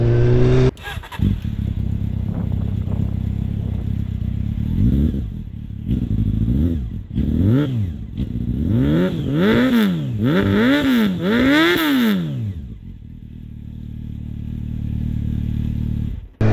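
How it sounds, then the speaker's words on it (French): Roadster motorcycle exhaust revving hard while riding, with repeated rising and falling throttle blips through the middle, then settling to a steady cruising drone, loud and close. "Sonorité de l'échappement quand on essaie de faire un peu le con, elle est vraiment géniale."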